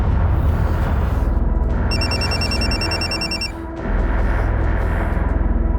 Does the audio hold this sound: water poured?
no